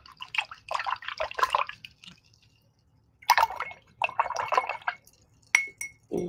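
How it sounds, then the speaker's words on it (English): A paintbrush used for acrylic painting is rinsed in a water container, making soft drips, swishes and glassy clinks in short bursts separated by a quiet pause. "All right, so I'm going to wash my brush."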